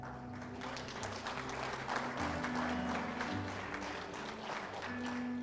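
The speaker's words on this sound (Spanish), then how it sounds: "¿Cuántos aplauden a Cristo?" A church congregation applauding steadily throughout, dense and continuous, with low musical tones sustained underneath.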